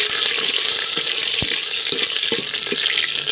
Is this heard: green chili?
yes